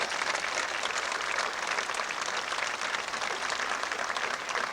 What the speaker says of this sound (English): Please applaud their accomplishments.